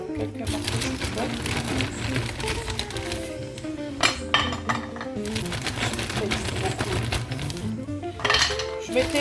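Cauliflower pieces placed into a baking dish produce intermittent ceramic clinks and knocks at close range over steady background music.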